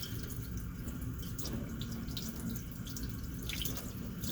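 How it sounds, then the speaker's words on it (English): Tap water runs steadily into a sink while hands rinse off soap, a continuous close splashing hiss with small irregular drips and patters throughout, no voices. "I'm making sure that I'm rinsing all the soap off"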